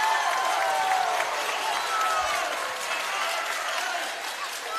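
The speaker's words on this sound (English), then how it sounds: "clapping for the defence" Crowd in the stands at a basketball grand final clapping steadily for the defence, a dense sustained applause texture with faint voices mixed in.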